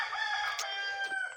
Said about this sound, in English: cockerel.